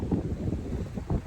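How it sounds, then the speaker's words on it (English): Gusty wind buffeting at a boat dock on a cold morning, a low rumbling roar with microphone buffeting, close and steady over a brief moment. "Man, it's windy this morning."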